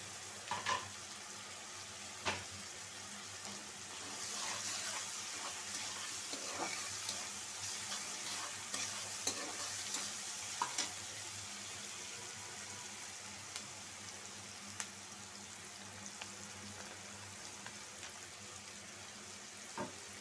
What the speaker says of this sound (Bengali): চিচিঙ্গা ভাজিটা নাড়া দিয়ে দিই